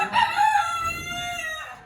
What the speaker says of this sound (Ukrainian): Вибачте, що взаді той кричить, пуховий півник.